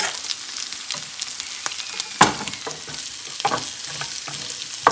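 Sliced shallots fry in a pan for a prawn roast, a steady crackling sizzle with scattered stirring clatters and a sharp scrape or two, close and alone.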